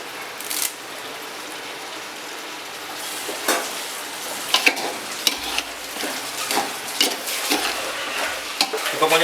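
Onions, green chilies and curry leaves sizzle and fry in a pan for a Chettinad country chicken gravy, with steady crackling and repeated scraping stirs of a spoon against the metal, close and loud, no talking.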